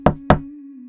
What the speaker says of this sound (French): Il frappa à la porte.